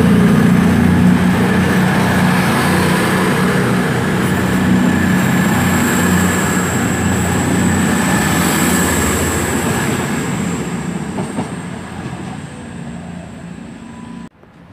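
British Rail class 220 diesel unit 220023 departing Oxford station on a Newcastle to Reading service, a loud steady engine and wheel rumble with a high whine that slowly fades as the train pulls away, no voices.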